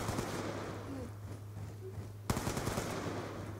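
Faint gunfire in Call of Duty Black Ops 2 sounds distant and quiet, with light scattered shots and one sharp, louder crack partway through, and no talking.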